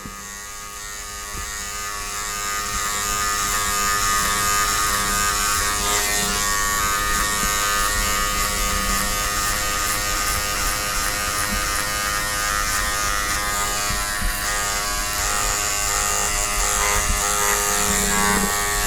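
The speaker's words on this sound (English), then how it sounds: "closing the lever of the clipper another notch, same story" An electric hair clipper buzzes steadily and close up during a skin fade haircut, a constant motor whine with bright harmonics that swells in after the first couple of seconds and holds unbroken to the end.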